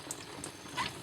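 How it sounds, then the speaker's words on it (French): Tap water runs quietly over endives being washed in a home kitchen sink, a soft steady hiss with faint splashy flickers across a brief moment. "On lave les endives."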